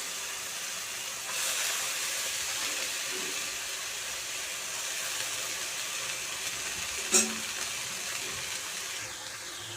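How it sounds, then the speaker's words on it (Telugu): Tomatoes and coriander frying together in a pan for a homemade coriander chutney, a steady soft sizzling hiss running throughout with one brief clatter near the end, no voices. "టమాటీ కొత్తిమీర రెండు కలిపి వేపుకున్నాను"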